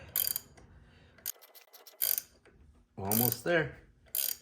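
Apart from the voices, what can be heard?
ratchet tightening Torx cap bolt on water pump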